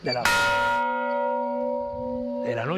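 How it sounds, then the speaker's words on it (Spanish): Old bell struck once in a museum, a clear ringing tone with bright harmonics that sustains and slowly decays over a couple of seconds. "Con esta campana se anunciaba el inicio de la noche"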